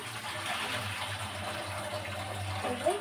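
Water runs steadily from a tap while fish are washed with turmeric and salt, a constant close gush with a faint splash near the end.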